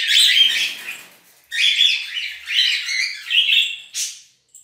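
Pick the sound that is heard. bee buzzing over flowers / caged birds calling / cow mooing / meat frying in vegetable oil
caged birds calling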